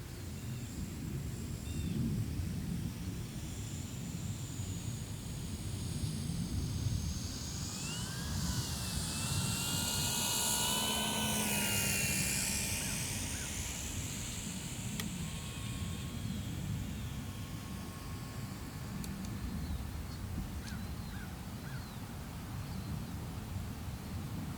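An FMS Curtiss P-40B Warhawk 1400mm RC model plane makes a pass with gear and flaps down, its electric whine swelling as it approaches, peaking overhead and fading away over steady outdoor background noise.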